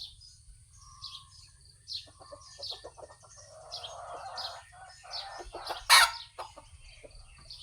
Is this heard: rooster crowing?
yes